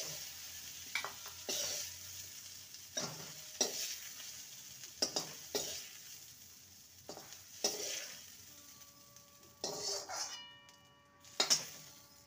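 Red-fried cauliflower lifted out of a pan with a utensil after the gas is switched off: faint residual sizzle broken by a dozen sharp scrapes and clinks against the pan.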